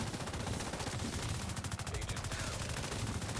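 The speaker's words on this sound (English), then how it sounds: "I'm shooting two people at once by accident." Rapid automatic gunfire from The Division 2 rattles continuously in a dense, loud stream of shots throughout, with a voice faintly audible beneath.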